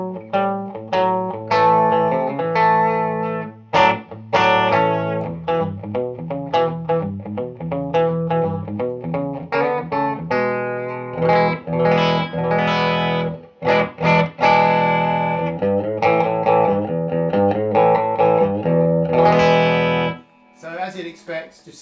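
A Danocaster '52 single cut electric guitar plays through a Todd Sharp JOAT 20 amplifier on a relatively clean tone, with a loud, continuous run of picked notes and chords ringing out and a brief pause near the end.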